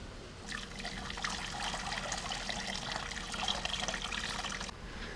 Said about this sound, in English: So I'm just going to pour this back over.